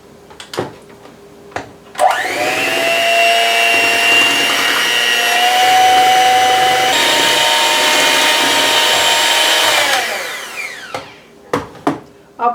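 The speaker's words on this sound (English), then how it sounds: "I'll probably cut out some of the mixing so you won't have to listen to that much" An electric hand mixer whirs steadily in a bowl of sweet potato casserole for about eight seconds, loud and close, starting and stopping abruptly, with brief clacks and knocks before and after.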